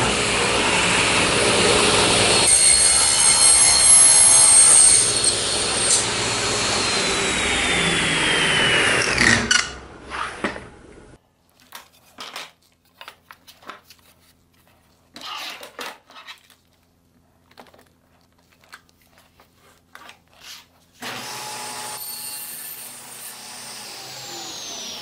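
A saw cuts a wooden garden obelisk trellis part clamped on an indexing board at a sharp compound angle: a loud whining run of about ten seconds that winds down into sparse clatter and clicks, then another loud whine rises near the end.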